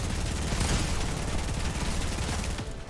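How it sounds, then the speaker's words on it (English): Pulse rifle shots in a Fortnite tournament match, a loud, continuous rattle of rapid fire that fills the whole moment before tapering off at the end. "Shots coming up from the pulse rifle"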